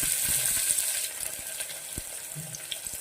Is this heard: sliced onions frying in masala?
yes